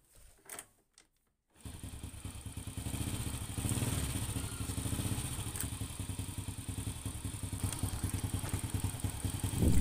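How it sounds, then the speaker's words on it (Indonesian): A motorcycle engine with a fouling spark plug problem catches after a few brief attempts, then runs steadily with a rough, rapid ticking clatter from the cylinder head, close and unaccompanied by speech. "ternyata mesinnya mau menyala, walaupun ada bunyi sedikit kasar di bagian silinder kopnya ini"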